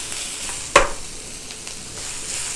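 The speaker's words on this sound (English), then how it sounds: "These onions are starting to caramelize." Onions sizzling in a hot frying pan as they caramelize, a steady hiss broken by one sharp scrape of stirring, close and fairly loud.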